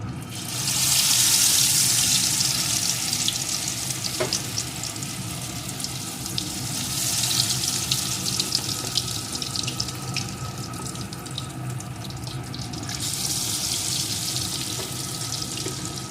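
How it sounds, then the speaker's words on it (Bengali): Chicken pieces frying in hot mustard oil in a home kitchen, giving a steady close hiss and sizzle with a few brief swells and a faint spatter throughout. "তেলটা গরম হয়ে গেছে এখন একে একে চিকেনের পিসগুলোকে দিয়ে"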